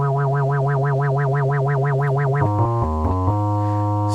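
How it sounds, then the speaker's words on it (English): A Roland System-8 synthesizer holds a loud sustained note whose LFO vibrato swings steadily in pitch, then the sound shifts into a short run of stepped tones before settling on a plain held note. "you could have the effect of the vibrato or the tremolo after you sustain"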